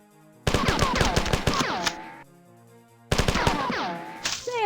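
In the video game Marathon, rapid bursts of automatic gunfire rattle loudly, and the shots are followed by falling ricochet-like tones. Two separate bursts are heard with a short pause between them, and there is no talking.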